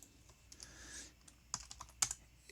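Keys on a computer keyboard clatter as a short email is typed, light quick taps with a few sharper louder strokes toward the end, close and alone without any voices.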